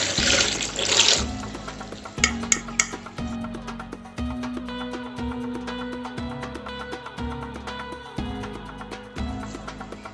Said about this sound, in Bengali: এবার আমি ঠান্ডা জল থেকে চাউটাকে আবার ছেঁকে নেব।